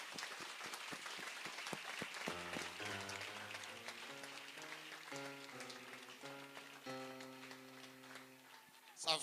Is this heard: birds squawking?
no